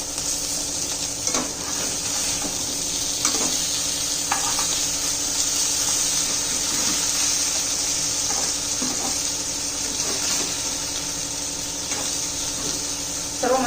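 Eel fish (vam) fries in a pan and is flipped over. A loud, continuous oily sizzle runs throughout, broken by a few soft clinks and scrapes of turning, with no voices.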